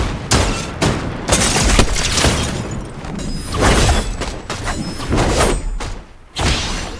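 Rapid bursts of gunfire from a shooter video game, including sniper shots, fill the stretch with loud, dense volleys and booming reports separated by short gaps, with no one talking over them.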